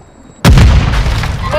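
A frag grenade exploding in Call of Duty Warzone 2 on Ashika Island, a sudden loud close boom after a brief quiet lead-in, followed by a rumbling decay with faint game voices behind it.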